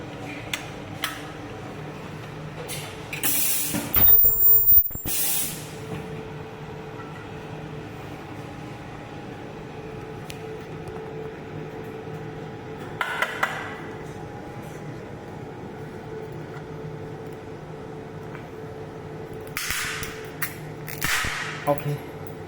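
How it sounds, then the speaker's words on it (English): An ultrasonic handheld welding machine seals a plastic trading card case: a sharp, loud hissing burst of about a second with a thin high whine, then two weaker short bursts later over a low steady room hum. "first I will show you the welding for the machine"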